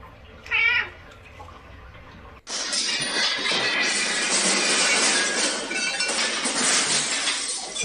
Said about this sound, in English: Who thought it was a good idea to take their cat to a winery?